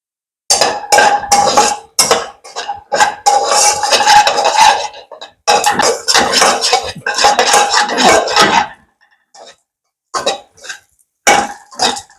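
Cashews stirred and fried in a pan with leftover oil, producing loud, close scraping and metallic clatter from the utensil against the pan in long busy stretches broken by brief pauses, with no talking.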